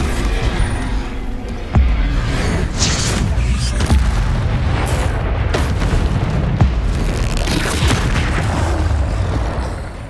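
Bombarda spell explosions in Hogwarts Legacy combat, loud booming blasts and sharp bursts over a dense, rumbling barrage of game noise that runs throughout.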